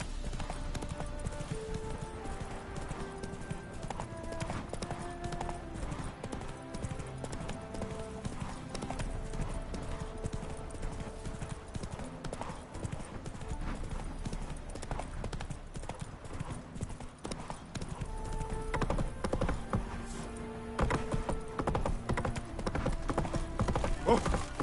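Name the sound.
horse Roach galloping in video game The Witcher 3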